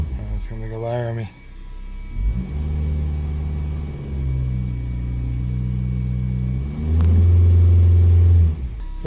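A 2010 Toyota Corolla engine running with a misfire, heard as a low, uneven idle rumble with a brief rev near the end, close by, and a voice speaking over the start.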